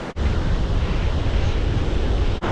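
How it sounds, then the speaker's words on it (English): Big ocean waves at a beach in St Augustine, Florida, roar continuously and loudly with heavy wind rumble on the microphone, a steady close wash of surf throughout. "gosh, that's a lot of big waves"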